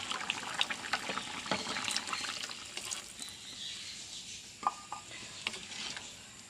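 First coconut milk is poured into a simmering prawn and mango curry, a continuous soft liquid pour and trickle with a few small splashes and clinks, heard alone at close range.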